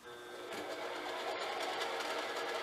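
A Eureka gear cutter relieving tool runs on a machine with a carbide cutter, giving a steady, fairly quiet mechanical whir with fast rhythmic chatter that holds throughout.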